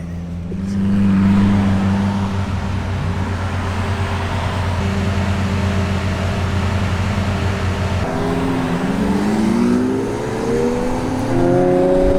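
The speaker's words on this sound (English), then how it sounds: "I'm driving an Urus, thanks to Cody." A Lamborghini Urus drives steadily, its engine a loud continuous hum near the mic that swells and shifts pitch as it accelerates and changes gears toward the end, with no talking.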